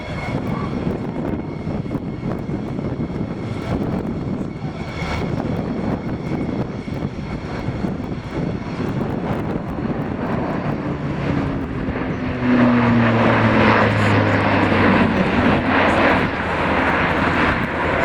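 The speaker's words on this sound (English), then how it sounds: "Quartet of Europrop International TP400 turboprop engines powering the aircraft" Airbus A400M military transport with four Europrop TP400 turboprop engines at the RIAT 2016 air display, a loud continuous engine roar that swells near the end with a low droning hum, no talk.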